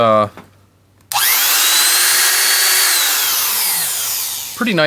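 A Makita-knockoff angle grinder spins up with a sharp onset and whines at a loud, steady pitch. The whine sags slightly as it runs down near the end, and someone speaks briefly just before and after it.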